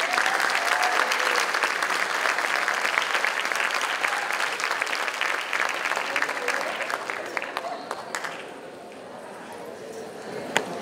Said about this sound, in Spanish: recibamos a Cristina Hunter con un fuerte aplauso